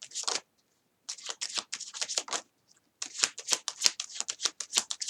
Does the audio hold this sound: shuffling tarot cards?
yes